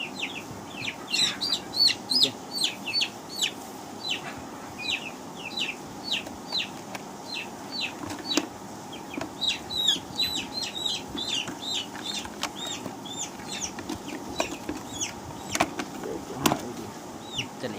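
Chicks being caught for vaccination on a poultry farm give a steady stream of high, rapid cheeping and peeping calls throughout, close and moderately loud, with occasional handling bumps underneath.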